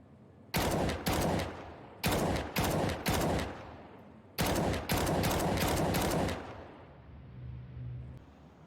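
Bursts of gunfire ring out in a video game's Nuke map, shot through a vent: two quick loud volleys, a three-shot cluster, then a longer sustained string of rapid fire that fades into low rumble.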